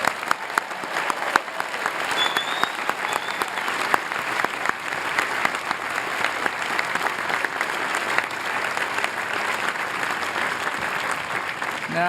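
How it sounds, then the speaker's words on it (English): A large commencement audience at Harvard University's 2014 ceremony applauds the graduating class, a dense, steady wash of clapping that holds for the whole stretch. "Let's have a big round of applause for the class of 2014."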